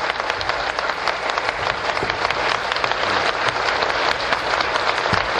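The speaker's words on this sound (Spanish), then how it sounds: "El aplauso para el presidente Cristiani." Sustained, dense applause from a large crowd at the El Salvador peace accords signing ceremony, honoring President Cristiani; steady and loud throughout with no pause.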